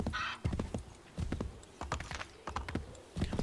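Horse hooves clip-clop in the video game Assassin's Creed 3, a close, brisk run of uneven hoofbeats in short clusters with brief pauses between them.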